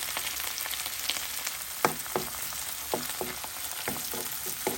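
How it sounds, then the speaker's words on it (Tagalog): Garlic frying until golden brown sizzles steadily in hot oil, with sharp stirring scrapes and clinks breaking through at intervals, close and fairly quiet. "I-golden brown muna natin yung bawang para mabango na mabango."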